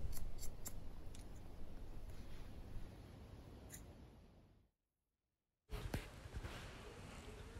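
Scissors snip hair during a men's rocker haircut, a series of close, crisp cuts with soft rustling, followed by a brief silence before more snipping.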